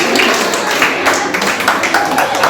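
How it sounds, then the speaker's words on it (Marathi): Audience clapping at a World Nurses' Day 2021 event: steady, fairly loud applause from a crowd with scattered claps, sustained throughout. "अगदी मनापासून जोरदार टाळ्या झाल्या पाहिजेत"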